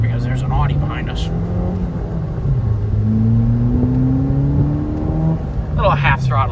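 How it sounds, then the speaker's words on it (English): A 2017 Ford Fiesta ST engine pulls under half-throttle acceleration, a steady drone rising in pitch and loud from inside the car, with brief talk at the start and end. "Little half-throttle acceleration for you."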